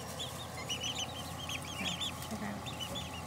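Young Silver Grey Dorking chicks give soft, high cheeping and clucking calls in quick overlapping bursts, faint and close, over a low steady background hum.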